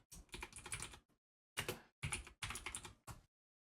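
Keys clatter on a computer keyboard in quick bursts of typing, close and fairly soft, separated by short silent pauses.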